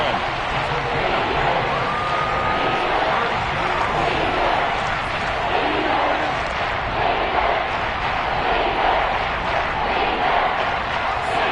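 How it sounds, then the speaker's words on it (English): A Seahawks home stadium crowd roars steadily throughout during an NFL football game against the Lions, a dense, loud wash of noise with no breaks. "This red zone is where the Seahawk crowd really makes it tough for an offense to communicate."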